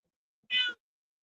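A single short cat meow, clear and fairly close, standing alone in otherwise quiet surroundings.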